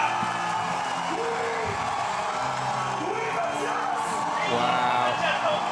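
Crowd cheering and whooping at a men's BMX freestyle flatland final in Montpellier, a steady roar of voices with scattered shouts, with commentary talk running over it.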